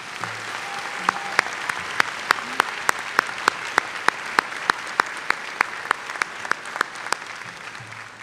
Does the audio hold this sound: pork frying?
no